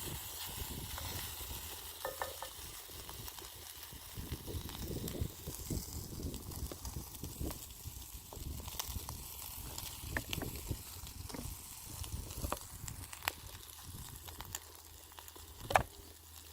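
Breakfast sizzles softly in a pan over a Kelly kettle stove on a beach, with faint frying and occasional stirring taps and scrapes at a fairly low level throughout.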